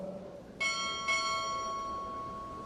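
A ship's bell struck twice in a quick pair at a Navy chief petty officer pinning ceremony, two bright metallic clangs with long shimmering rings that fade slowly in a large room.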